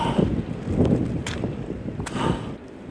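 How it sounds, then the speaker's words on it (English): Gusty wind at Easedale Tarn buffets the microphone in uneven surges and brief hard bursts, moderately loud and with no speech. "It's a bit windy."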